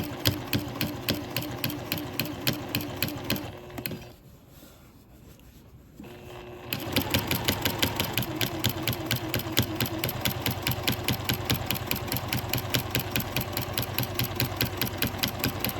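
Close, steady rhythmic stitching of a sewing machine with a walking foot as it sews binding onto a quilt, running continuously, pausing briefly, then resuming at an even pace.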